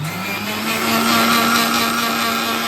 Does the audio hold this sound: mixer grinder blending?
yes